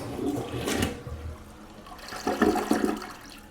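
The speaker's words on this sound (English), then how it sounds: "let's see if this toilet can flush it" A Bemis toilet flushes close by, starting with a sharp handle clunk and a rushing gush, then settling into swirling, gurgling refill water with a second burst of draining.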